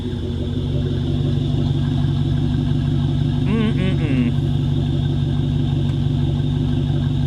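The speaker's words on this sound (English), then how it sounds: "Listen to this exhaust. It just sounds so damn good." A Ford Mustang GT exhaust rumbles steadily at idle, a deep, loud, continuous throb close by, with a brief higher squeal partway through.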